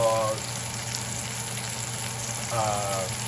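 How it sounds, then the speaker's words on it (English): Steak fries in a cast iron Le Creuset pan with a continuous, even sizzle and crackle. A faint voice-like tone shows up briefly at the start and again near the end. "cast iron cooking steak with cast iron La Creuset"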